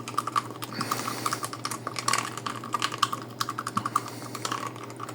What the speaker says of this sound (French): il faut surtout très très bien mélanger, c'est très important de bien mélanger.